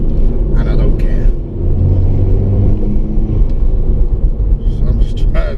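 A tuned Stage 2 Audi TT mk2 engine drones steadily while driving, a loud, close, continuous low rumble with slight rises in pitch and brief higher noises near the end.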